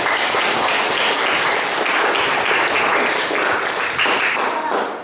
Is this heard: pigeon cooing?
no